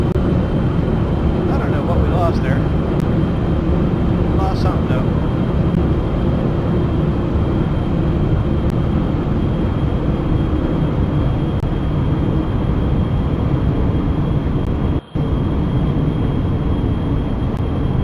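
Spaceplane jet engines roar steadily at takeoff in Kerbal Space Program, a loud continuous broadband drone with a brief cut near the end, while a voice talks over it.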